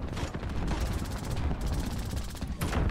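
Rapid video game gunfire rattles in dense automatic bursts almost continuously, loud and close, with brief gaps between volleys.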